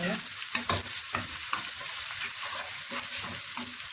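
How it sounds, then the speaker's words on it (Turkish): Onions sizzle steadily in a pan while a spoon stirs them in repeated scraping strokes over a bright, continuous frying hiss, close and loud, no voices. "Şöyle güzel bir kavuruyoruz soğanlarımızı"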